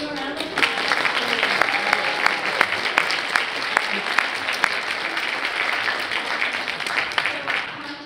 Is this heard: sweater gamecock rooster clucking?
no